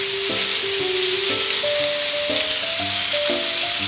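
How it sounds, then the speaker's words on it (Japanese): Thick tonteki pork steak sizzles steadily in a frying pan over high heat, a dense, loud hiss that never lets up, with a melody playing over it and no talk. "強火で焼きます"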